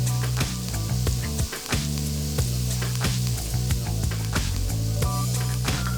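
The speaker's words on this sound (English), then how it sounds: "I'm gonna cook my wild mushrooms right on this plancha right here" A mix of cremini, shiitake and oyster mushrooms sizzles in olive oil on a hot plancha, with a loud, continuous hiss broken by sharp crackles and a constant low hum behind it.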